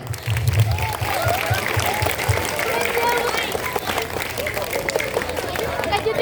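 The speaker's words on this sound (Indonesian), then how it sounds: "Tepuk tangannya dulu." A crowd at a religious gathering marking Isra Mi'raj claps together in a sustained burst of applause, dense and steady, with murmuring voices mixed underneath.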